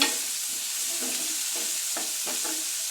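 Vegetables sautéing in a pan for mutton kurma, a constant close hiss of frying with a few soft stirring scrapes, alone without speech.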